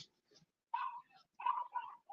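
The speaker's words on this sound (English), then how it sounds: "There goes my dog barking." A dog barks several times in short bursts, a few moderately loud yaps with a whimpering tone, heard indoors with no talk over them.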